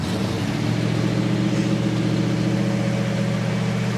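A 1974 Plymouth Cuda with a 446 V8 idles close by, a steady deep rumble with a throbbing low pulse that holds constant and loud, no voices.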